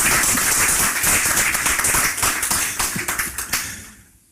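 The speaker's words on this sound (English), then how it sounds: "This is where the applause is deserved." Applause in a hall after a political address, a dense run of hand claps that stays loud and steady before thinning out and fading near the end, with no voices over it.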